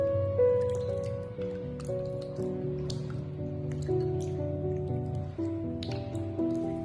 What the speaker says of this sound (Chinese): 然后再换上干净的清水，再次简单的抓洗一下就差不多了